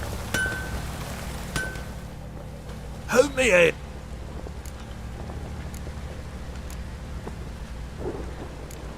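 Heavy rain pours steadily in the video game The Witcher, a constant hiss throughout, briefly interrupted by a short spoken line from a man.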